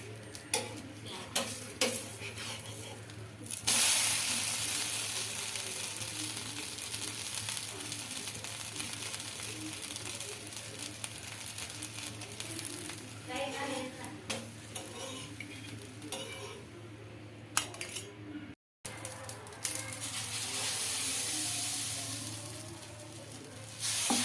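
Cucumber dosa batter sizzles and fries on a hot pan, a continuous crackling hiss broken by scraping and stirring clicks of a spatula, with a brief gap before the sizzle resumes.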